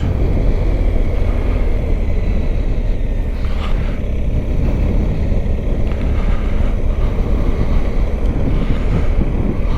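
Strong wind buffeting the microphone near the Thiepval Memorial on the Somme, a constant loud roar and rumble throughout with no voices.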